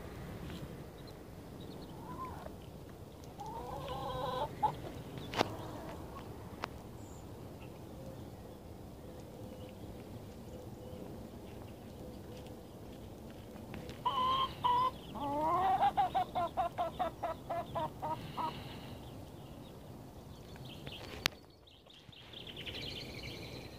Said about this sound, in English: I brought some forage for the chicks and chickens